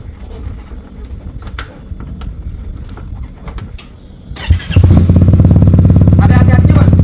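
Motorcycle engine starting up close by after a stretch of background noise and chatter, then settling into a loud, steady idle rumble with people talking around it.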